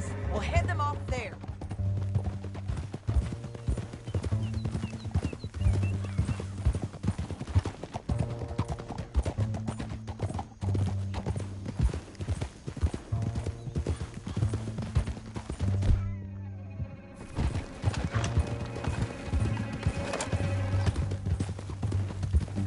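Horse hooves clip-clop in a steady, loud, rhythmic gait throughout a Red Dead Redemption 2 ride, with characters speaking over the hoofbeats.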